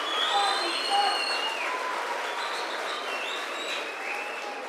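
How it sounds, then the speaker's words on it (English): Audience applause at a closing ceremony for skills competition winners, a steady dense wash of clapping from a large crowd that holds through the whole stretch, with no one speaking over it. "a warm round of applause"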